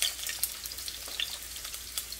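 Teriyaki stir fry sizzles in a hot pan, a steady close crackle and hiss with small pops scattered throughout and no talking.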